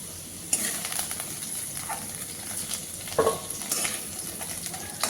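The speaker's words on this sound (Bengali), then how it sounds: "এভাবে হালকা ভেজে নামিয়ে নিতে হবে" Diced squash fries lightly in a pan for a squash, potato and catla fish curry, giving a steady close sizzle with a few louder scrapes and clatters from stirring.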